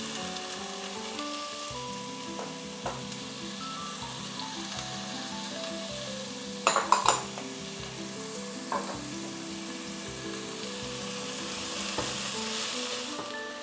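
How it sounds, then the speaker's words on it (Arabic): Onion and garlic fry in a little vegetable oil in a heated pot, making a steady, moderately quiet sizzle with a short burst of clatter and stirring partway through. "بدي حط شوي من زيت النباتي ما كتير، ونزل فيها البصل والثوم لأعمل القلية"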